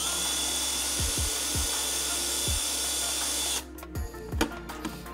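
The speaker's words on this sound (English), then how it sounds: "I will try to see if I can drill it with the bag actually in here." A drill boring a hole through a Harley touring saddlebag with the bag mounted, a steady whirring hum with several short bursts and pitch drops, then scraping and handling noises near the end.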